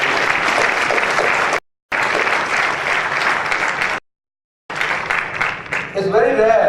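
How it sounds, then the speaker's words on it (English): Steady, dense applause from a large audience, broken by two brief silent gaps, with a voice starting to speak near the end. "A round of applause for all of you for your achievement"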